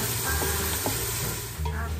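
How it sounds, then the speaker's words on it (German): Minced meat browning in a pot for a one-pot farmer's stew, a loud, steady close sizzle with a few scraping stirs over it and no voices. "Dann wird das Hackfleisch etwas angebraten."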